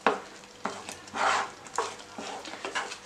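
A spoon scrapes and stirs pineapple kesari in a pan, giving repeated rhythmic swishing strokes with a soft cooking sizzle beneath, close and fairly loud, no voices.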